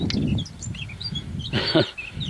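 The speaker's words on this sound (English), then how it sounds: "Can you hear them crows over there in that rookery?" Harsh bird calls from crows in a rookery, short caws scattered over a couple of seconds against outdoor background noise.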